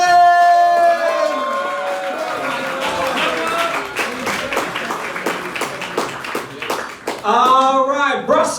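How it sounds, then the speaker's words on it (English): A comedy club audience in Brussels claps and cheers for the comedian Michael Frankland in a rising wave of applause, while a host talks and music plays underneath before the clapping swells again at the end. "Put your hands together. Give a big round of applause for Michael"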